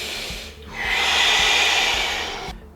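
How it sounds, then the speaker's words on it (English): Deep breathing during guided breathwork: one long, close, breathy inhalation swelling and fading over a couple of seconds, alone over a soft rhythmic musical pulse. "Keep breathing as I speak. Stay on this speed, stay on this depth."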